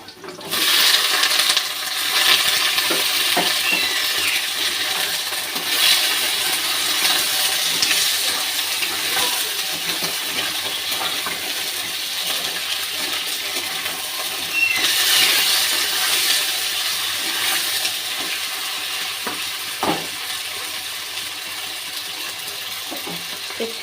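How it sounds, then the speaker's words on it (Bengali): Chicken meat frying in a pan while cooking chicken kosha, a steady broad sizzle running continuously and fairly loud, with faint stirring clinks and no talk. "এবার আমি মাংসটা দিয়ে ভালো করে ভেজে নেব।"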